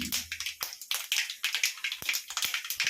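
Mustard seeds and dal crackle in hot oil for a Tamil fish curry, a run of sharp popping bursts and short spits in quick irregular succession, close and moderately loud, with no talk.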